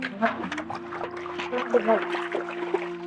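Water is poured into a bucket in a rural village scene, a soft trickling splash heard under steady talk from people nearby.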